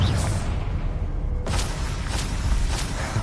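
Bombarda and Confringo spell explosions in the video game Hogwarts Legacy, a dense, continuous rumble of blasts with repeated bursts that swell and fade over a few seconds, loud and close with no talk.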